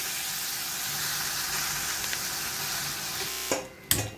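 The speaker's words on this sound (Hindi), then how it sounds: "कश्मीरी लाल मिर्च जाएगा, कश्मीरी रेड चिली पाउडर है ये, उसको भूनना है अभी" Kashmiri red chili powder frying in a pan for a rohu fish curry, a continuous dense hiss and sizzle that cuts off abruptly near the end, followed by a brief knock.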